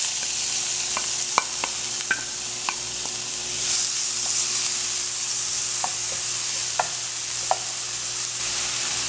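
Steady sizzling of onions and pimento frying in coconut oil, with occasional clinks and stirring scrapes from a pan, no voices.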